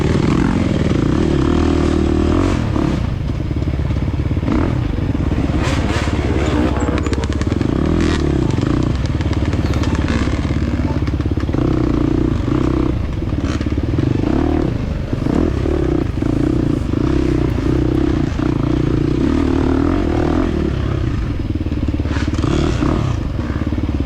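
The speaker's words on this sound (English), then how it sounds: "So right here, I'm getting the revs again, and we pull over right up here." A 2023 KTM 350 dirt bike engine revving at a scramble race, loud and close throughout, with rising and falling revs and clattering over rough ground.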